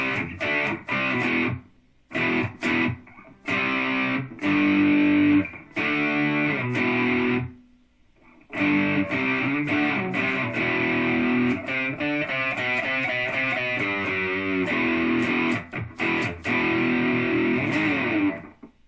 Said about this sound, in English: Everything off except the repeat actually makes a nice sounding little room reverb.